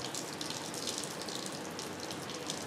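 Water runs steadily from a tap in a school science lab, a continuous hiss and splash close by with no voices.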